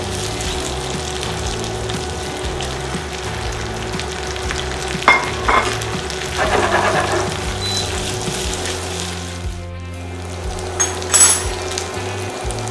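Pork belly frying and being tossed in a pan: steady loud sizzle throughout with scraping, clattering stirs and tosses in the middle, close and alone without any talking.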